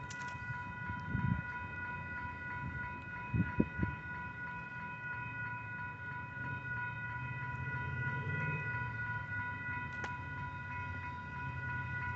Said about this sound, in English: Southbound UP, gate's already down.